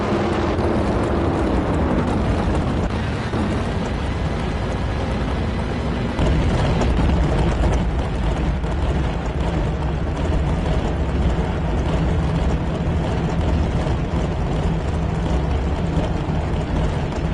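Drag racing cars' engines at an NHRA championship event: a dense, loud, continuous roar that fills the whole stretch without easing.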